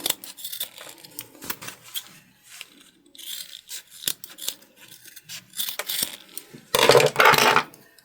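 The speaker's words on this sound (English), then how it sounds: "now we're just going to cut off our excess" Scissors snip repeatedly through excess fabric, a series of crisp close cuts with short pauses, ending in a louder burst of rustling and snipping.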